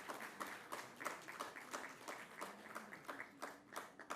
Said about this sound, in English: Let's give a huge round of applause to them as well.